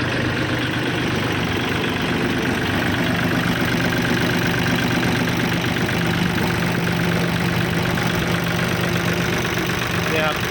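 A Kubota L4018 tractor engine idles steadily, a constant loud diesel drone and rattle that runs unchanged throughout, with faint voices partly buried beneath it.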